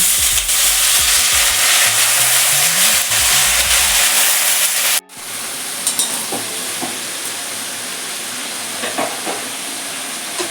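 Spinach goes into a hot pan of frying vegetables for a Bengali tangra fish and spinach chorchori, setting off a loud, steady sizzle. The frying briefly cuts out partway, then comes back quieter with light crackles and a few stirring clinks.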